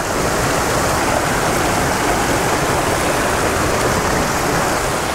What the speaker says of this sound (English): what an awesome little creek here